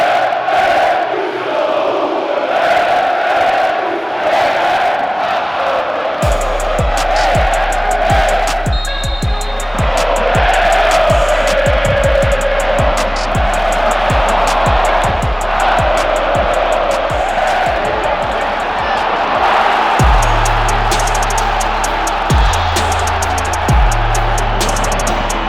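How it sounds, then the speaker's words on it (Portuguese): Bochum football supporters fill the stadium stands with a steady crowd roar, while heavy rhythmic drum beats pound through the chanting from about a third of the way in. "ali está a torcida do Bochum"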